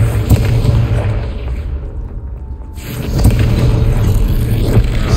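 A Confringo fire-spell blast in the game Hogwarts Legacy gives a loud booming explosion with a rumbling low end, with a brief lull and then a second swelling burst toward the end.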